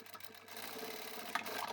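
A sewing machine stitching a tall boxy upholstery bag, a quiet continuous rapid mechanical whirring heard briefly up close.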